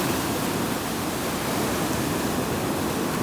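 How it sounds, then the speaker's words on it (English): Ocean surf washing over a reef by a lagoon, a steady, loud broadband roar of breaking water with no pauses and no voices. "Let's see what this wave does."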